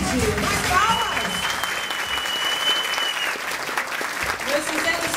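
A theatre audience at a stage performance applauds, a steady wall of clapping with voices and a sustained vocal tone above it, fading briefly before swelling again.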